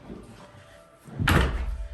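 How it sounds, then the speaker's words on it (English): A laundry-room door leading out to the garage of a vacation house in Frisco, Colorado shuts with one solid, fairly close thud and a brief rattle after a quiet stretch. "This door in the laundry room goes back out to the garage."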